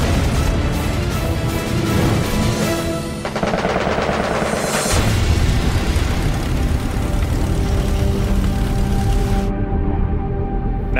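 Rapid bursts of machine-gun fire from an aircraft in a dogfight with a Japanese Zero fighter rattle loudly over a steady engine drone, continuing throughout with no voices.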